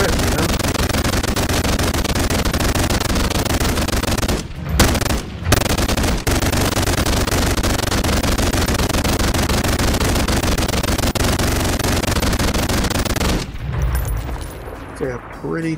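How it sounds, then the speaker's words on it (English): A mounted minigun turret in the VR game Bonelab fires a long, continuous roaring stream of rapid shots, broken by two short pauses, then spins down near the end. "Pretty cool mounted minigun turret"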